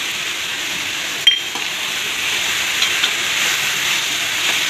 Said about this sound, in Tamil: இதே நல்லா ஃப்ரை பண்ணிடணும்